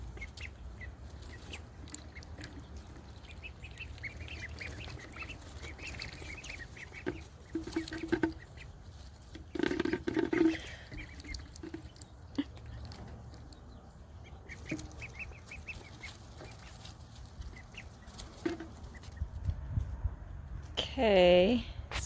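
Young ducks in an outdoor kennel pen bedded with pine shavings give a few soft quacks and peeps against steady background noise, with people talking over much of it.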